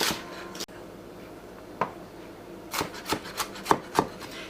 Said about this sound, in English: now that the celery is cut